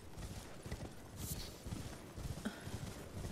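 Donkey hooves clip-clopping in a video game, a quick, uneven patter of hoof steps at moderate distance, fairly quiet and continuing throughout.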